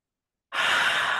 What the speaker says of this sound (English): Heavy breaths out the mouth.